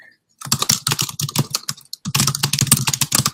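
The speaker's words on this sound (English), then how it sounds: "Okay, actually, we do have some typing." Rapid clattering keystrokes on a computer keyboard, close and loud, in two bursts separated by a brief pause.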